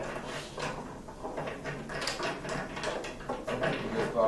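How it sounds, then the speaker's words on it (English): A wrench tightens screws on a storage cabinet during assembly, with a steady run of dense clicking and rattling mechanical strokes close by and no speech. "I want to take a wrench to tighten it down once you get them screwed in"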